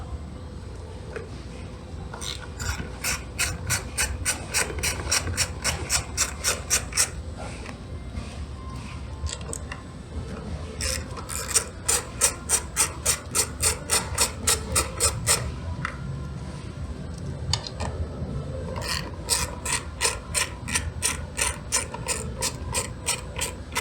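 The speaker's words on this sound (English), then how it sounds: "remove these screws." Rapid ratchet clicking from a hand ratchet wrench backing out the 10mm screws on a Toyota Avalon side mirror, 2005–2010 model, sounding in three long bursts close to the microphone with no talk.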